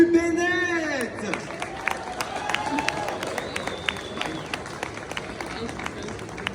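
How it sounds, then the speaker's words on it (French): Scattered applause from an audience at a press conference during a manga convention, with a voice speaking over the start and claps continuing unevenly behind crowd murmur. "Et un tonnerre d'applaudissements pour Manu Bennett."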